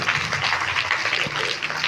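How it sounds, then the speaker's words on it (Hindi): Audience applause at a school prize distribution, steady, dense clapping filling the room for about two seconds at moderate loudness, with no speech over it. "ताली बजाइए"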